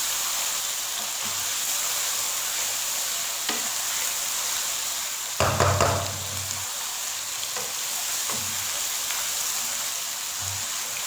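Chicken biryani masala with chili, dry coriander and garam masala fries in a pan, a constant hiss broken midway by a louder burst of scraping as the spoon stirs it.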